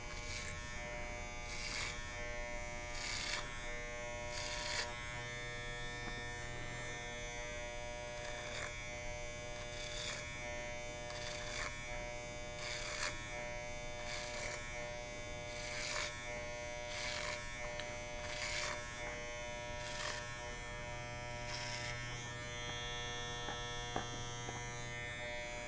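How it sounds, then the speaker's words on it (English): An electric hair clipper runs steadily in a clipper-over-comb haircut, a constant close buzz with repeated brief bursts as it cuts across the back of the head, no talking. "I'm going to take my clipper over comb"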